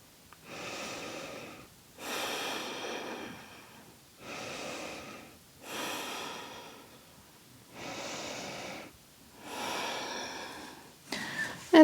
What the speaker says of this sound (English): And 3 more breaths.